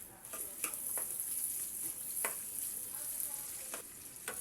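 Shrimp frying in a pan, a steady bright sizzle with scattered pops and crackles, close and continuous with no talk.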